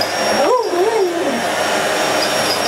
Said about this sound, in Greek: Δεν σου αρέσει η ηλεκτρική σκούπα.